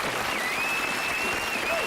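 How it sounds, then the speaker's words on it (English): An audience at a show claps for the inventors, a brief, even burst of steady applause with a thin tonal whistle running through it. "a big round of applause for the people who make the show possible, the Inventors"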